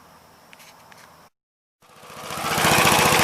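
A 1957 Gravely SR walk-behind tractor runs with its mower deck engaged, engine chugging steadily before a brief dropout, then returning louder with a rising roar and a rough, rapid pulsing beat.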